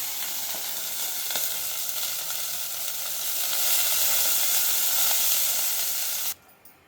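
Six cups of water poured into a hot pan for cashew upma raise a loud, steady sizzling hiss that carries on evenly for several seconds before cutting off abruptly.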